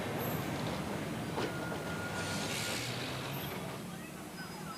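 A Blackpool tram rumbles past at steady volume, a continuous low roar with faint metallic squeals and hiss, no voices.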